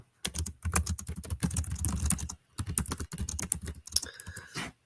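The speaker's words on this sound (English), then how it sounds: "I'm typing to you in the comments." Rapid clattering keystrokes on a computer keyboard in several bursts, separated by short pauses, close and clear with no talking.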